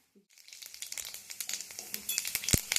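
Whole garam masala of cardamom pods, cinnamon pieces, cloves and bay leaves is tempering in hot oil for a Bengali cabbage curry. A soft sizzle and crackle builds steadily, with one sharper pop near the end.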